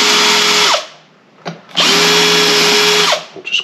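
A power drill deburring holes in a Classic Mini brake disc during a Cooper S disc brake conversion whines loudly at close range in two long bursts, with a brief pause and short clicks between them.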